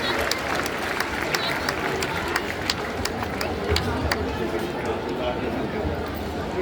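An audience at an Arya Samaj 150th foundation-day ceremony in Delhi claps steadily and heavily throughout, a dense sustained patter of many hands with voices mixed in underneath.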